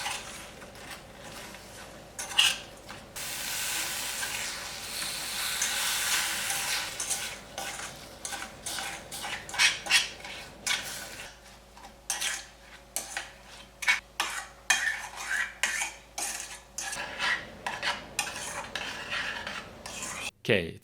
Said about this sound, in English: be sure to keep stirring it so that the sugar doesn't burn